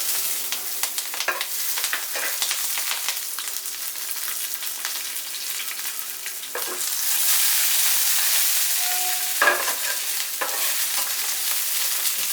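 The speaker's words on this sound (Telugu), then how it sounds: "ఇప్పుడు పచ్చిమిరపకాయలు వేసుకోవాలి" Green chillies frying with onions and chana dal in a pan, giving a continuous sizzle punctuated by occasional stirring scrapes, with the hiss growing louder for a stretch midway.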